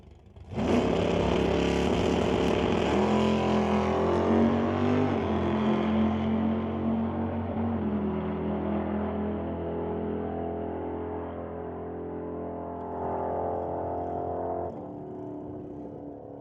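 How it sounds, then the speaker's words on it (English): A drag racing motorcycle makes a test hit down the strip, its engine roaring in at full throttle, a loud sustained drone that shifts pitch through the gears, then fades as it recedes. "Motorcycle, back to the lane for a test hit."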